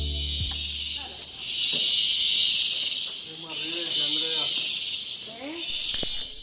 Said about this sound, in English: you'll hear the deafening sound of singing cicadas, which was pretty much constant as we walked